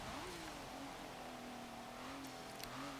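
A 2018 Kia Stinger GT's engine drones steadily in Forza Motorsport 7, revs rising and falling slightly with a continuous loud racing tone and no talk.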